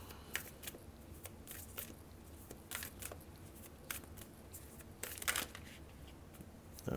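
A deck of tarot cards being shuffled by hand, with repeated soft riffling and flicking bursts scattered across several seconds, close by and fairly quiet, with no talking.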